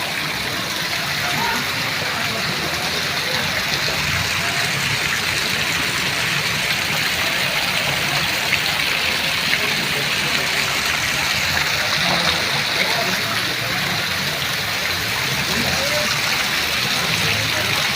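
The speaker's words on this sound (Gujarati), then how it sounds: "આ દુકાનમાં બારેલામાં આર પાર પાણી" Floodwater runs through the streets and shops of Barela in Idar, making a loud, continuous rushing gush that never lets up, with voices talking over it.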